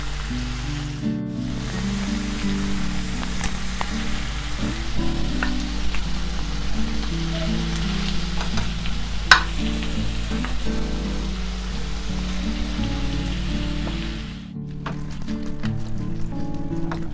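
Minced meat cooks in simmering tomato sauce in a pan, giving a steady, continuous sizzle and bubbling hiss with occasional soft stirring clicks, and no talking.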